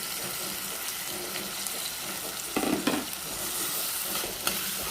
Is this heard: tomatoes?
yes